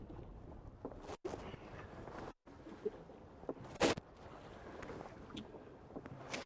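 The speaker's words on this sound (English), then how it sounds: "I'm going to ask for 3 strong rows on starboard" Oars working a rowboat into harbour on the starboard side, with close splashes and creaks under wind noise broken by a few brief gaps and one sharp burst.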